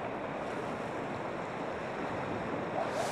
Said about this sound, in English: The waves that are coming in are phenomenal.